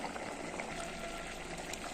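Chicken simmers in a pot on a gas stove, a steady dense bubbling and hissing wash that stays even and close throughout, with no voices.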